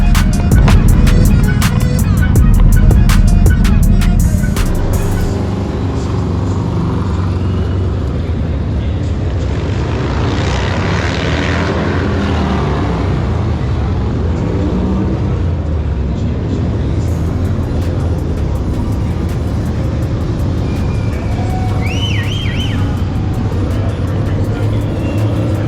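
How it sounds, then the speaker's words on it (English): Bagger motorcycles racing at a MotoAmerica event, a loud engine roar sweeping past up close at first, then the distant drone of bikes on track under ambient crowd noise. "Got the bagger races going on"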